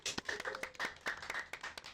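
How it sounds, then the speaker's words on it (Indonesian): A small audience at a student organisation podcast session claps briefly, a few scattered, fairly faint hand claps in an uneven rhythm. "Boleh tepuk tangan dong teman-teman semuanya."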